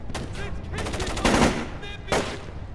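Bursts of gunfire in Splinter Cell: Chaos Theory, a rapid rattle of shots followed by two louder blasts, close and sharp over a busy background.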